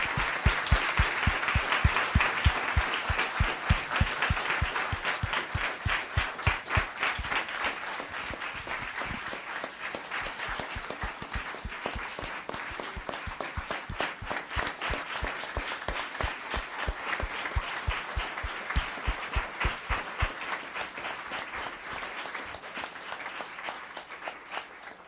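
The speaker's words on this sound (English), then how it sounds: "One more round of applause, please, for Mayor Spector" Audience applause at a Los Gatos town council meeting, a steady, sustained wash of many hands clapping, with a few louder individual claps rhythmically prominent near the start.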